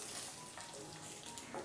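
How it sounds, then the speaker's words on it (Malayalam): Eggs fry in hot oil with onions for a spicy onion-egg fry, a loud continuous sizzle close by, with light stirring scrapes through it. "മുട്ട ചേർത്ത് കൊടുത്ത ശേഷം ലൈറ്റായിട്ട് നമുക്കൊന്ന് ഇളക്കി കൊടുക്കാവുന്നതാണ്"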